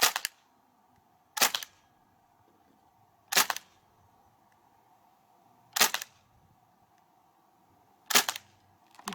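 Five sharp, loud shots from a KWC Uzi blowback BB air pistol fired with its stock extended, each a crisp snap with a mechanical clack, spaced about two seconds apart over a faint steady hum.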